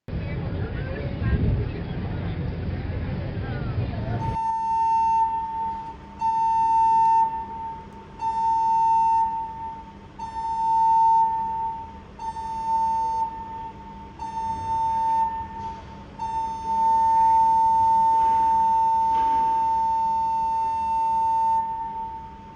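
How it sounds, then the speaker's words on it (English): Cruise ship emergency alarm aboard the Radiance sounding in repeated long steady tones with short gaps, loud and continuous across the clip after a burst of wind noise, with crowd murmur beneath. "If you hear the previous emergency alarm sounded, proceed directly to your assembly station."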